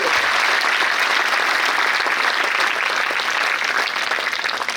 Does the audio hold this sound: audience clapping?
yes